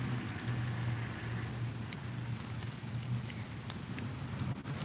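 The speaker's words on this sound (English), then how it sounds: "The rain's starting to get pretty hard now, guys." Heavy rain falls steadily outdoors as a dense, constant hiss, with a low engine-like hum underneath and occasional sharper drops.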